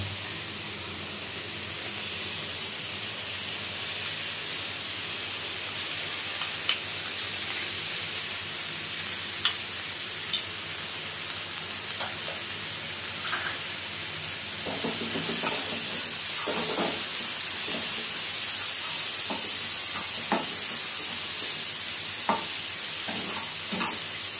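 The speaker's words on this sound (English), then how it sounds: "we will cook it till the time the vegetables become little bit soft" Vegetables and mixed pickle cooking in a pan for a pan pizza: a steady, hissing sizzle with occasional stirring scrapes and clicks, close and fairly quiet.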